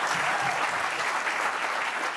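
A studio audience at a talk show applauds in a dense, even burst of many hands clapping, loud and sustained for a couple of seconds with no talk over it.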